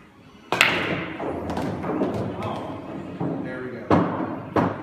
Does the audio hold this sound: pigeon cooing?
no